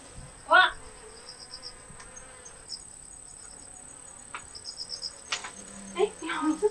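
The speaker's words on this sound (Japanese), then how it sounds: "いや、ミツバチが。" Honeybees at a hive under giant hornet attack give off a faint, thin buzzing with a steady high whine. Brief louder sounds and a voice come through near the start and the end.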